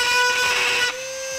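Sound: rotary tool grinding a notch in a Jeep tail light cap

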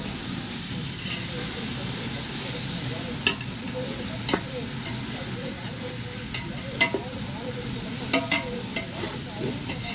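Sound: sautéing coriander and mint leaves in a pan

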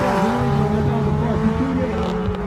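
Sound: race car driving in an autocross event

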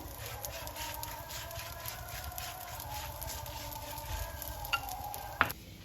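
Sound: gözleme flatbread browning in an oiled pan

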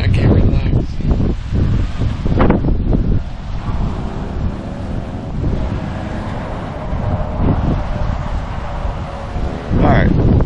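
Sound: wind blowing into the microphone

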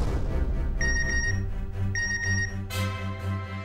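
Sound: phone message notification tone

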